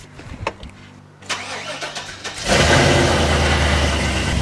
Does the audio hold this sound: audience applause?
no